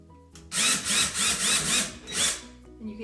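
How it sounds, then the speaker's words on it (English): A power drill with a 3/16-inch bit whirs in short bursts, grinding through drywall about four times, close and loud, with quiet pauses between. "just take your drill with your 3/16 drill bit on it and make your holes."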